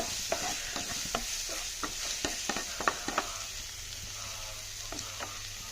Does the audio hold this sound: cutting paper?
no